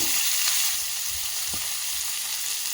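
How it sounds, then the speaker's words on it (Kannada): Onion and curry leaves, with mustard seeds and cumin, fry in a pan with a soft, steady sizzle and an occasional faint stir, alone without talk. "ಸ್ವಲ್ಪ ಫ್ರೈ ಮಾಡ್ಕೊತಿದ್ದೀನಿ"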